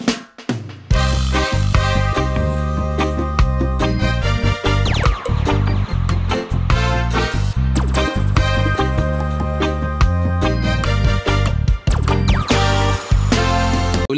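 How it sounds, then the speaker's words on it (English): Reggae instrumental built entirely from Ableton Live 11 Suite stock sounds, plugins and effects, playing loud and continuous with steady bass, chords and drums throughout, no voices. "I will show you how I made this reggae instrumental only using sounds, stock plugins and effects from Ableton Live 11 suite"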